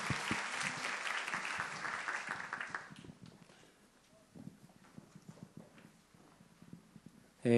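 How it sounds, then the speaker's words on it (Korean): A church congregation at a youth worship service applauds to welcome a speaker, with a full round of clapping for about three seconds that fades into faint, scattered sounds. "박수로 맞아주시기 바랍니다."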